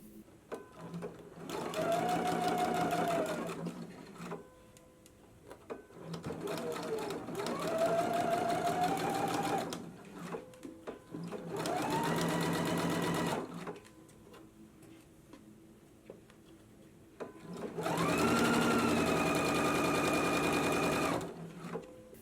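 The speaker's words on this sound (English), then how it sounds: "So now let's head to the machine. We're going to stitch this at a 5/8 of an inch seam allowance" A sewing machine runs a 5/8-inch seam on a shirred summer dress in four sustained bursts. Each run is loud and close, with short quiet gaps between them.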